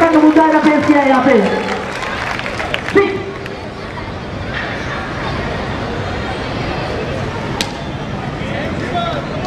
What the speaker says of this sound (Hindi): एक बार जोरदार तालियां रेखा जी के लिए